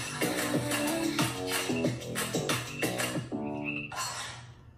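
Frog-like croaks in a pop song, clear and near, with chopped tonal pulses repeating in an uneven rhythm through the music; no talk.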